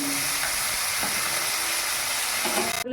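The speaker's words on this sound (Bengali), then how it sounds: "এই মাছগুলো ভেজে আসছি" Tengra fish frying in hot oil in a pan: a dense, continuous sizzle and hiss close up, with occasional faint pops and a short clatter right at the end.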